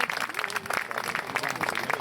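A crowd applauds at the final of a polo match while players change horses, a dense, continuous patter of clapping from a sizeable audience, with an announcer's voice talking over it.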